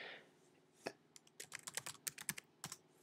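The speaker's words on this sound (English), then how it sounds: "Type my password in again." Quick bursts of keystrokes on a Mac keyboard as a password is typed, a single tap followed by a rapid, irregular run of close, crisp key clicks with no talking.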